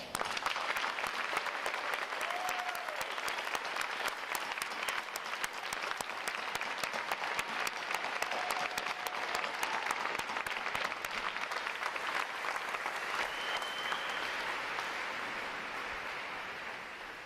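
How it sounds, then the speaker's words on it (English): An audience at a U.S. Navy ROTC graduation ceremony gives a long, dense round of applause, even and sustained, tapering off slightly toward the end, with no talk over it. "Let's give our midshipmen a round of applause."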